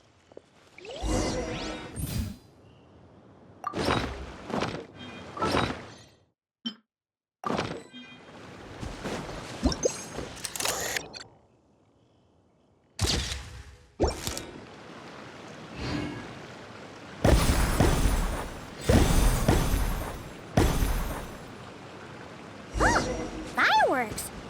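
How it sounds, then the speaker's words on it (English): Scattered bursts of fireworks going off in Genshin Impact, irregular booms and crackling pops that come and go with gaps of quiet in between, some louder and longer than others, with spoken voices mixed in among them. "Fireworks!"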